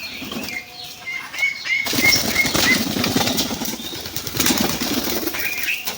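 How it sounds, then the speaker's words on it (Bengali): King pigeons flap and splash in water in a rapid flurry of wingbeats, close by, with a few faint chirps around them. "এখনও কিং কবুতরগুলো গোসল করছে"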